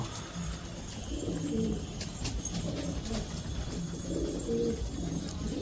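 Pigeons eating grain feed, with soft repeated cooing calls rising and falling amid a low steady background.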